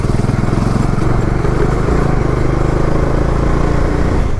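Bajaj Dominar motorcycle engine droning steadily on a mountain touring road, a loud continuous mid-pitched hum with constant throttle and no voices.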